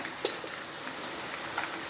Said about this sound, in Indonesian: Terus kita goreng gini